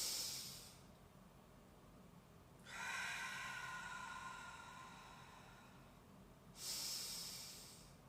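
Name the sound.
slow exhalation during a breathing exercise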